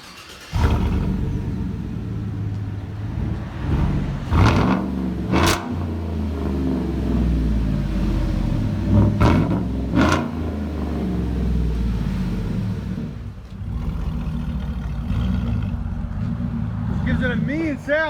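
A 2018 Chevy Silverado Z71 running through a straight-piped dual exhaust, a deep loud rumble at idle broken by two sharp revs that rise and fall, with people talking nearby.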